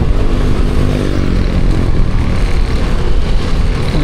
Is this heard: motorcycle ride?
yes